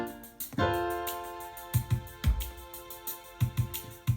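Piano chords in root position, several struck in an uneven rhythm, each ringing and decaying clearly with no talking.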